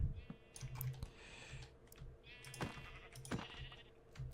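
Sheep bleats in Minecraft, with layered harmonic calls in two bursts over soft mouse clicks and faint keyboard tapping, quiet and close.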